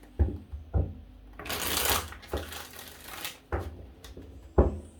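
Tarot cards being shuffled by hand in a series of quick, close riffling bursts, several separated by brief pauses, with no voice over them.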